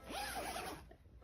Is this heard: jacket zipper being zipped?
yes